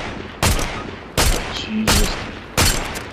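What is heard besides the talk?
gunfire in the video game Fortnite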